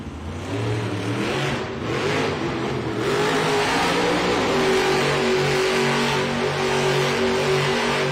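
The Grave Digger monster truck, just repaired, revs its engine hard inside an arena at a Monster Jam event in San Jose, California. A loud, close roar climbs and holds steady, with no talk over it.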